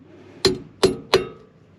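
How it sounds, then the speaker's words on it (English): Three sharp metallic taps of a hammer on a split pin fitted to a caravan drum brake, close and crisp, the last two quicker than the first, each ringing briefly. "Just give that a bit of a tap with the hammer"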